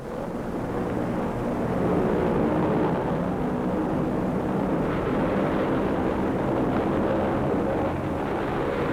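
Steady droning roar of tow plane engines releasing gliders over the Rhine crossing in 1945, a constant low rumble heard close and loud, without talk, with old newsreel recording quality.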